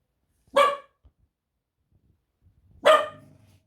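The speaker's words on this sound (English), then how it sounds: "No barking." A dog barks twice, sharp single barks spaced a couple of seconds apart, close by with silence in between.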